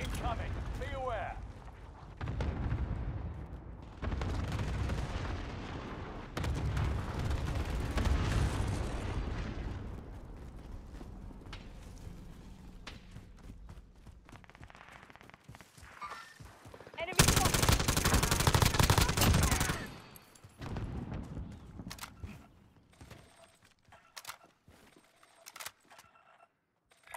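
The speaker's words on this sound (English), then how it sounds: "Allied precision airstrike incoming." Gunfire and heavy explosions from a Call of Duty: Modern Warfare match, with a precision airstrike landing as a loud, dense blast cluster around the middle, amid sustained rumbling battle noise and announcer-style voices.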